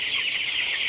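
A flock of agitated broiler chickens on a poultry farm clucks and chatters densely, a continuous, fairly loud chorus of many birds with no pauses.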